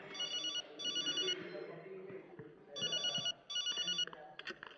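A mobile phone rings in two clear bursts of repeated electronic trilling, a pause between them, with quieter sounds and movement in the background.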